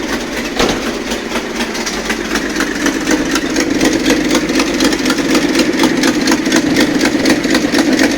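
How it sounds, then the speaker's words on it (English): A Datsun 280Z engine idles with a broken exhaust, giving a rough, steady, motorboat-like burbling rumble, loud and close, running continuously with no voices. "The exhaust is broken, so it sounds like a motorboat."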